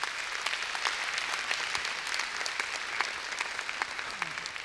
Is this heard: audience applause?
yes